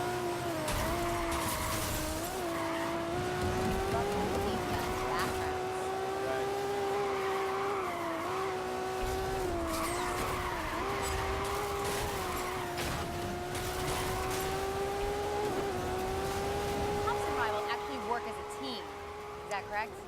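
Race cars from Need for Speed Rivals on PS4 roar continuously with a sustained engine whine, tire squeals and skids, while people talk over the gameplay throughout.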